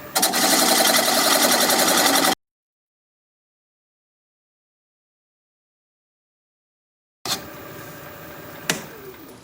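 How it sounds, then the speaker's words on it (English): A wood lathe spinning near 600 RPM while a 3/8 inch bowl gouge cuts away the tenon on a tri-corner bowl, loud steady machine whir with cutting noise for two seconds, then silence, then a softer continued hum with a brief knock. "Speed this up to about 500 RPM. Well, that's 600. And commence to removing this tenon."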